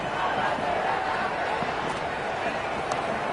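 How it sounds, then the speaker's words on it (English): Stadium crowd noise from the Cricket 26 video game forms a dense, continuous roar that stays at an even level from start to finish, with no breaks or distinct individual cheers. "There's an almost tangible fervour throughout the crowd at the moment."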